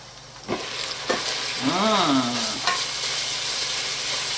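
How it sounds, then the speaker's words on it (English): Bacon fries in its grease with yellow onion and yellow pepper, giving a constant close sizzle broken by a few scraping stirs, then a short squeaky drag of the utensil across the pan. "Stir my bacon."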